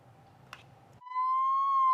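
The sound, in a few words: ambulance siren of the Ambulancia del Deseo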